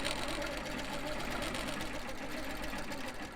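A long arm quilting machine stitches binding onto a quilt with a continuous, rapid mechanical whirring and fast needle chatter, steady and close throughout, while a voice talks over it.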